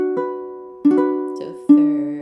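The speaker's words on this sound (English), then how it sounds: "Now minor chord first inversion sounds like this." A minor chord in first inversion played as three separate notes, each struck and left to ring, at a steady pace, clear and close with no talking.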